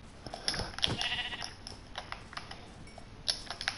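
Minecraft sheep bleating in-game, a few short nasal bleats at moderate distance over a busy game soundscape, with no talking.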